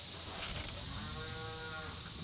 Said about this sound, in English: These cows are not happy.